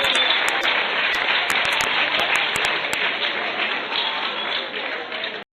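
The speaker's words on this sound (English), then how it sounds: "Please give the assistant superintendent a nice round of applause." Audience at a Future City event applauds steadily for several seconds, a dense, fairly loud wash of clapping with a few sharper claps up front, ending abruptly.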